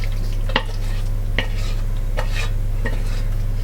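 A spoon scrapes and clacks through a thick, cheesy pasta bake mixture in a pan, a few rhythmic strokes over a steady low hum, close and clear.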